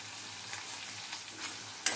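Asafoetida and turmeric sizzle steadily in hot oil, tempering for mango pulihora, with a brief sharp clink near the end.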